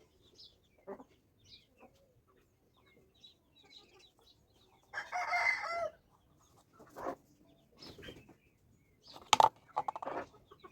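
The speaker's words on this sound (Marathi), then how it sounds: "आपल्या कोंबड्या आहेत घरच्या, त्यांचा आवाज येत आपल्याला" Domestic backyard chickens clucking and crowing in short, scattered bursts against near silence, with one louder call in the middle and another toward the end, moderately close by.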